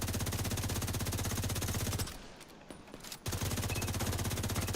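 Gun turrets in The Division 2 firing rapid automatic bursts in a fast, even rhythm, loud and close, with a roughly one-second pause before the firing starts again.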